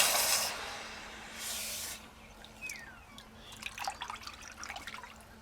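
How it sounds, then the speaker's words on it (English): A freshly welded metal bolt is dropped into water for quenching, producing two short bursts of loud hissing spray followed by softer bubbling and trickling, close and with no voices. "Just gonna chuck that in some water."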